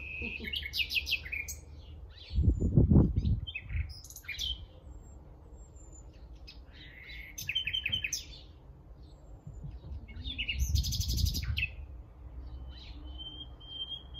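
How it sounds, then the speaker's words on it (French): Outdoor birdsong: several birds chirp and trill in high, repeated phrases throughout, some calls near and some farther off, with a few soft low rustles and thumps in between. "C'est tellement agréable le chant des oiseaux que je préfère me taire."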